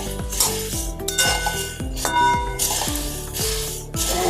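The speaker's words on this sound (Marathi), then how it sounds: "आपल्याला 2 मिनिटं असे फक्त असे शेकून घ्यायचे आहेत कढईमध्ये" Puffed rice is dry-roasted in a wok, stirred with a metal spoon that scrapes and clinks against the pan in a steady rhythm of about two strokes a second, close and fairly loud with no voices.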